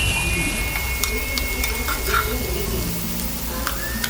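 A paste of mustard and green chilies fries with fish curry in a pan, producing a steady close sizzle and bubbling hiss, with a few brief clicks and faint tonal squeaks over the frying.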